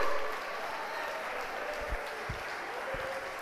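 A church congregation applauding, steady moderate clapping spread across a hall at a fairly soft level, with a few low thumps and no clear voices on top.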